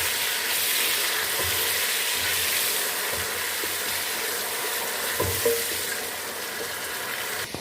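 Potatoes and tomatoes fry in a pan for aloo palak, giving off a steady, close hiss of sizzling oil. Occasional scrapes and clicks of stirring break through the sizzle.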